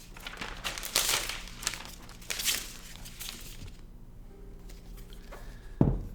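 Protective plastic wrapping comes off a new Surface Laptop 4 in several close, crinkly rustles and short tearing bursts, ending in a soft thump, with no voices.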